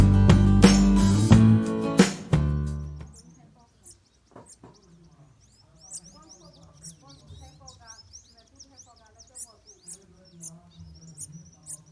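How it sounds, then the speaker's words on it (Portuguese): A cibiti, also called guriatã, chirps while bathing outdoors in nature, giving a series of short, fairly faint tweets across a quiet background after louder music fades out at the start. "a primeira ave a chegar foi esse cibiti aí"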